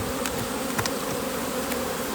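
Dense, steady buzz of honey bees swarming around open hives during an inspection, a continuous close hum with a few brief sharper passes near the ear and no talking.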